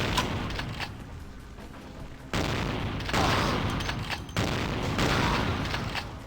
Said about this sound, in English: Dude just took 4 shotgun shells to the face.